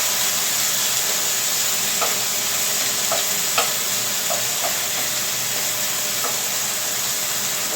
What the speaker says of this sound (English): we're going to let these cook up, flavor our oil here